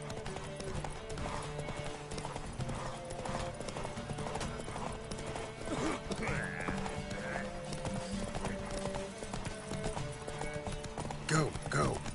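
Horse hooves clip-clop steadily at a gallop in The Witcher 3 video game, a continuous rhythmic beat under game music, with brief whinnying and a voice speaking over it.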